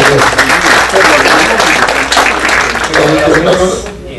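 Loud, close applause welcoming a speaker at an international scientific conference, a thick burst of crowd clapping blended with voices throughout.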